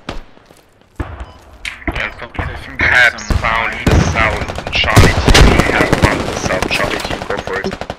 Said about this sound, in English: Enemy LMG northeast.